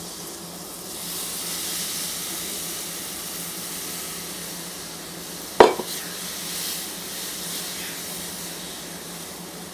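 Cup of milk poured into a hot, light tan roux in a pan, giving a steady hissing sizzle with stirring scrapes and one sharp splashy burst midway, close and continuous without talk.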